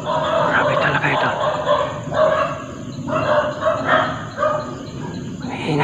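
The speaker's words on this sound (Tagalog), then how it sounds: "Ingay ng mga aso" Several dogs bark and yip in bursts, mixed with voices talking over them, fairly loud and close.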